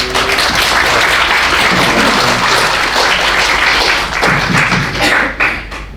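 An audience applauds loudly after a guest lecture, giving a dense, full round of clapping that holds steady and then tapers off near the end.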